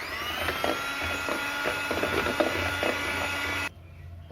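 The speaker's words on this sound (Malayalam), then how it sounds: "ഇനി ബീറ്റർ വെച്ചിട്ടൊന്ന് നമുക്ക് ബീറ്റ് ചെയ്തെടുക്കണം" An electric hand beater whirs steadily through eggs and powdered sugar for a black forest cake batter, a close continuous motor drone with rattling against the bowl that cuts off abruptly near the end.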